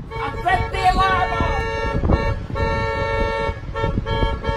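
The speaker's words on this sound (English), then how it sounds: "Oh, fuck, Jake, I set the alarm off" A house alarm going off, a loud, steady electronic tone with sustained harmonic bands close by, while people talk over it.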